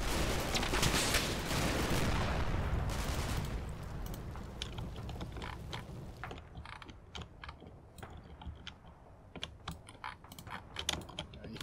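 Scattered gunfire from the Combat Mission World War II game in the hedgerows, dense crackling bursts at first that thin into sharp intermittent shots over a quieter background.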